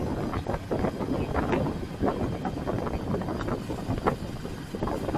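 Vehicle rolling downhill in third gear on a mountain road, heard as a steady low engine and road rumble mixed with wind noise, moderately loud and continuous with no talking.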